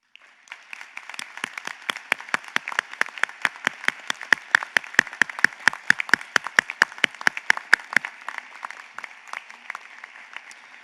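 An audience at a fall college commencement ceremony for an arts college applauds military members and veterans, with steady, rhythmic clapping that builds to a peak, then thins out and stops near the end, leaving a quiet tail.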